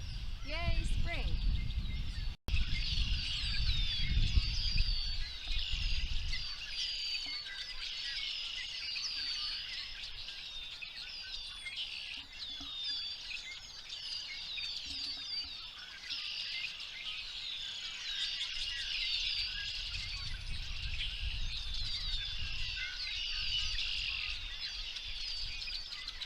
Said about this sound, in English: There's chickadees, there's red-winged blackbirds, there's all kinds of birds, and they're all singing